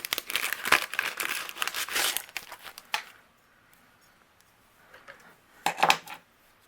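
Metal cutting dies being pulled apart from die-cut cardstock: close crinkly rustling of paper with light metallic clicks for a few seconds, a quiet pause, then another short burst of crackling handling.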